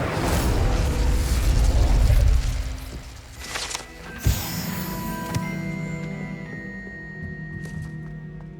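A fire spell bursts out in the video game Hogwarts Legacy, opening with a loud, low rumbling blast of roughly two seconds that fades into a shimmering magical tone and a few softer pops.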